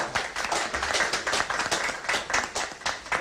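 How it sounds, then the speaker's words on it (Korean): An audience at an outdoor election rally in Dongjak, Seoul claps in a dense, steady patter of many hands, moderately loud and continuous for a few seconds. "선생님들 큰 박수 보내주시기 바랍니다"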